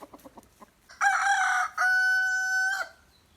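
Soft clucks followed by a loud, close rooster crow in two long drawn-out phrases.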